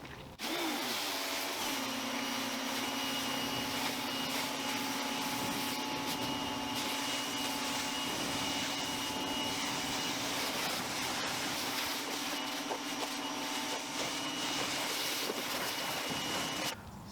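A steady, loud rush of water spraying over a car during a rinse, with a continuous mechanical hum from a pressure washer underneath, unbroken from start to finish.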